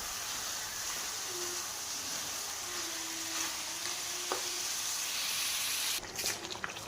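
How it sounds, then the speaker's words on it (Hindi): Steady frying sizzle of about 2.25 kg of chicken browning in masala in a kadai, a continuous close hiss with faint stirring scrapes and a brief clatter near the end, no voices. "चिकन डालने के बाद अच्छे से हम इसे भूनेंगे।"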